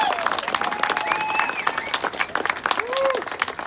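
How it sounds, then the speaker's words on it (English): Rally crowd applauding loudly at a gun-rights march in Helena, Montana, dense clapping throughout with cheers and whistles rising over it, close and sustained for several seconds. "Ladies and gentlemen, a round of applause for Seth Burgley."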